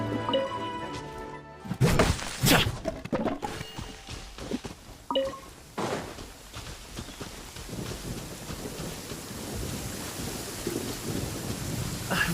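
A loud thunderclap cracks and rumbles over steady rain in a video game storm, followed by a few more thuds, then a continuous hiss of rainfall on surfaces.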